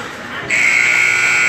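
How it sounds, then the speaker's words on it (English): An ice hockey period-ending buzzer sounds at a game between Owensville and the Lexington Bandits, a loud sustained electronic tone that starts abruptly and holds steadily over arena ambience. "And there's your buzzer."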